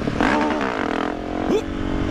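A motorcycle engine held at high revs during a wheelie, a loud, close, steady roar with a brief rise in pitch near the end, heard without speech.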